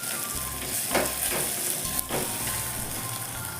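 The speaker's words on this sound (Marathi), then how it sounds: "आता आपण टमाटर घालून घेऊया. टमाटरही छान भाजून घ्यायचं आहे." Tomatoes with salt frying in oil in a pan for a drumstick-pod curry, a steady close hiss of sizzling with a couple of brief stirring scrapes and no talk.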